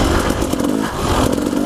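A 2015 KTM 250XC two-stroke dirt bike engine running loud and close, a steady buzzing rasp that keeps revving at a continuous high pitch throughout.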